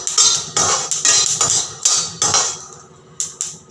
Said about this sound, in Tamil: நல்லா பொரிஞ்சு வறுக்குது பாருங்கள்,